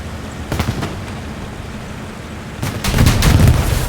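Explosions and gunfire in a competitive tank video game match: a few sharp bursts early, then a louder cluster of blasts with a rumbling tail near the end, with no talk.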